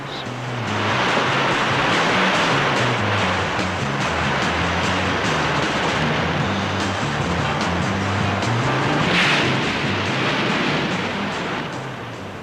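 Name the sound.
breaking ocean waves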